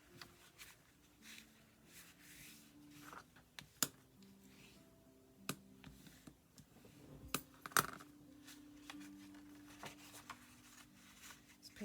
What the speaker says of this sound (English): I'm going to go ahead and fold each of my score marks.